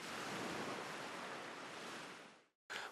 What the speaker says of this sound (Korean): 파도 소리 등을 들려주면